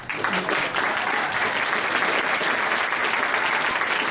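An audience claps steadily and loudly at a convention's closing ceremony, a dense continuous wash of applause with no pauses.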